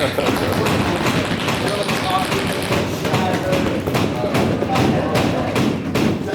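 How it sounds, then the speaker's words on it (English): A roomful of people at a Toastmasters table-topics meeting bang on tables, producing a rapid, irregular clatter of overlapping thuds and knocks that grows more pronounced toward the end, with voices mixed in. "go ahead and bang on the table"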